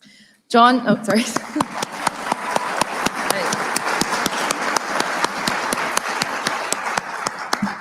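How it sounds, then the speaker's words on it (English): An audience applauds at a Sigma Chi fraternity awards ceremony. Loud, dense clapping breaks out abruptly and keeps up steadily to the end. "Extra applause for the wine guy."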